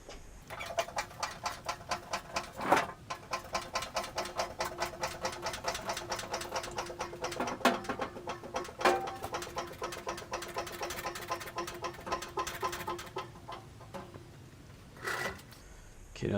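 A motorcycle lift raises a 1982 Yamaha XS650SJ, giving a steady, fast mechanical whir with rapid rhythmic pulsing, fairly loud and close, a few sharp clunks along the way, and a brief pause before it starts again at the end.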